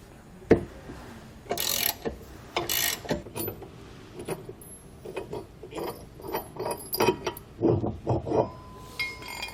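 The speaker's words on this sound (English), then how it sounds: "We'll use a 24mm wrench to remove the single bolt holding it in." A 24mm wrench works a single bolt loose from a trailer hitch receiver. Close metallic clicks and ratcheting come in irregular bursts, with clinks and clanks of metal parts throughout.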